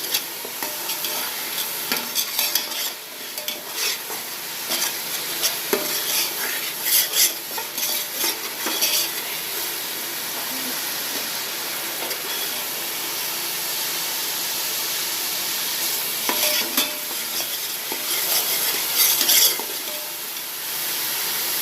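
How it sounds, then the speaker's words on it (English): Onions fry in hot oil in a pan for chicken dum biryani, a continuous close sizzle broken by repeated scraping and clinking of a spoon stirring against the pan. "Onion is frying."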